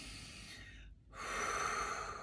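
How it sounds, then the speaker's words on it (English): A slow, deep breath drawn in through the nose, soft and close, with a brief quiet pause before a longer steady inhale. "deep breath in"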